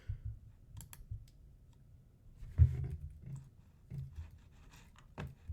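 Sparse computer mouse clicks at a desk, several soft isolated taps spread across a quiet stretch while a Roblox shop is being built.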